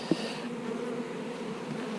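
Bees buzz steadily around a hive, a continuous close droning hum with one brief louder pass near the start.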